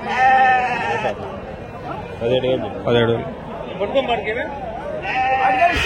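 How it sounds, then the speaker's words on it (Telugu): Several sheep bleat loudly and repeatedly, close by, at a livestock market in Angallu, amid people talking and bustle in the background. "గొర్రెలు ఇది గొర్రెలు ఎందుకు ఉంటాయి ఇక్కడ"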